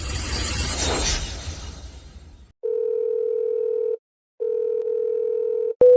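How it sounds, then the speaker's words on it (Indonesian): Steady telephone ringback tone sounds as a call goes unanswered. Two long, even rings are separated by a short pause, and they follow a brief burst of noisy room sound. "Presdir Lu pasti sedang rapat, dia tidak dengar teleponnya"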